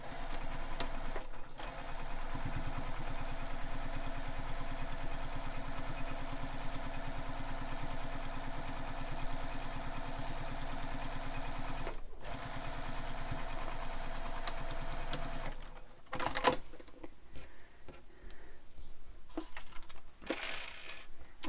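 A sewing machine runs a long steady seam on a handbag at the seam allowance, a continuous even whir with short pauses and a stop-start burst near the end, no voices.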